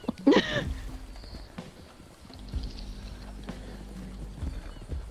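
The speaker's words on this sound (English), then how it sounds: "Whoa, my horse is pushing me along." Horse hooves clip-clop in the open-world western game Red Dead Redemption 2, a short burst of steps near the start with a whinny-like cry, then quieter ambient movement and faint background sounds.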